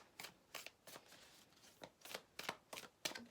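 Tarot cards shuffled and drawn during a spiritual card reading, sounding as a run of crisp, close riffling bursts in an irregular rhythm with short pauses between them, and no voices over it.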